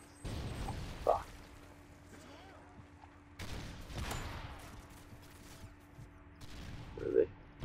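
Gunfire in the video game Call of Duty Modern Warfare 3 comes in a few separate faint bursts of shots with quieter gaps between them, and a player talks over them.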